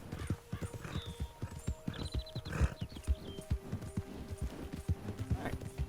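A horse gallops in the video game Red Dead Redemption 2, with a steady rhythmic thud of hooves, a brief whinny and faint jingling tack over it, and a voice heard now and then under the hoofbeats.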